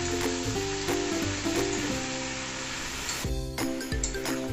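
Sizzling and bubbling from a pan of mixed vegetables, slit green chillies and chopped tomato with spices, steady and close throughout just after a splash of water goes in.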